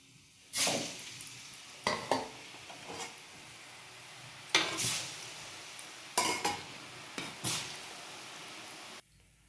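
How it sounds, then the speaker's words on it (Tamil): Murukku frying in hot oil: a soft, continuous hiss of oil with intermittent, spaced bursts of utensil clatter and scraping, heard at close range with no speech. "நல்லா எண்ணெய் காஞ்சிட்டுனா அது அப்படியே மேலே வந்துடும். அதுக்கப்புறம் முறுக்கு போடணும்."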